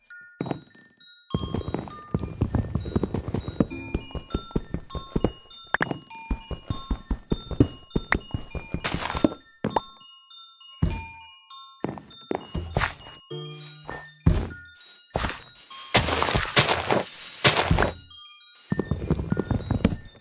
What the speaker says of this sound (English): So we're currently listening to just basically a bunch of MIDI files.